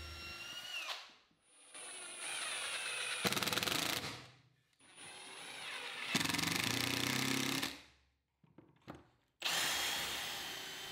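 A power drill pre-drills and countersinks into wood, then drives a 1.75-inch screw while building a bookcase: several close, loud whining bursts of the motor separated by short pauses.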